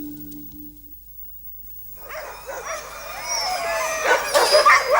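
Alaska sled dog team barking and yipping, starting after a quiet moment and building into a dense, excited chorus of overlapping barks and whines from several dogs nearby.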